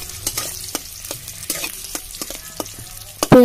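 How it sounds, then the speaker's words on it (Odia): Chopped onions frying in hot mustard oil for an Odia chicken potato curry, a steady close sizzle with repeated scrapes and clatters of stirring, loudest near the end. "ଏବେ ଆମେ ପିଆଜକୁ ଭଲ ଭାବରେ ଟିକେ ଭାଜି ନେବା"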